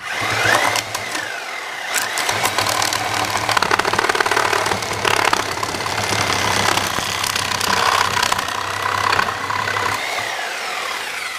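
A Porter Cable Sawzall reciprocating saw cuts through nail-filled wood with a loud, continuous buzzing rattle and harsh grinding, close up and sustained for the whole stretch, with no speech.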